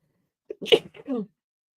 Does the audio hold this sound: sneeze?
yes